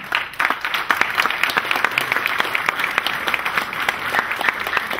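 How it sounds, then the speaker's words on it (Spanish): Audience at an entrepreneurship talk gives a strong, sustained round of applause, many hands clapping densely and evenly with sharp individual claps poking through, no speech on top. "¿A quien le pido un fuerte aplauso?"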